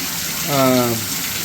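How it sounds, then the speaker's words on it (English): A shower running with the hot water on during a plumbing service call, giving a steady broadband rush of flowing water with a brief swell of tonal pipe resonance midway. "Okay, we got the shower on. We got the hot water on."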